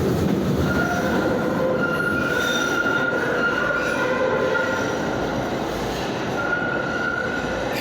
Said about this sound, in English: Now we're getting busy with these trolleys.